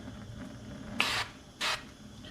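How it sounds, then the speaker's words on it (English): Duck fat cooking spray hisses from a can in two short, quiet bursts about half a second apart in a kitchen. "I'm going to take some duck fat spray,"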